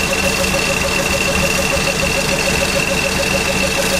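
The engine of a 1961 International Scout runs on an emergency ignition system with the key out, idling steadily and loudly at close range with an even, unbroken mechanical drone and a rapid rhythmic ticking.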